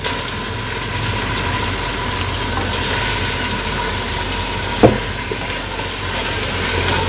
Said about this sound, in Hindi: इसको अच्छे से भूनना जब तक इसका कलर अच्छे से सफ़ेद ना हो जाए, तब तक भूनना।